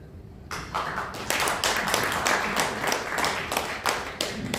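An audience applauds to welcome a presenter at the launch event of a Korean political association. A crowd claps together in a quick, steady patter from a short distance, and no one speaks during it.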